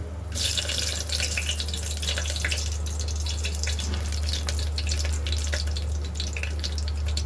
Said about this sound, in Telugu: ఇందులో నూనె వేడాక బగారా వేసుకోవాలి. పచ్చిమిర్చి,